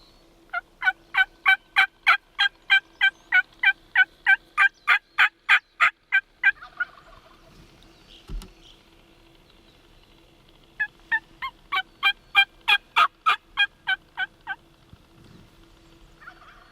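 Wild turkey gobbling during a spring hunt on public land, a long run of evenly spaced, rapid gobbles, a pause, then a second shorter burst, moderately distant and clear over quiet outdoor background.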